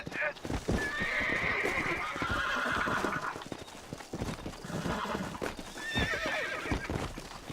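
Horse in the Red Dead Redemption video game neighing and bucking, with repeated loud whinnies and stamping hooves close by, several neighs spread across the stretch.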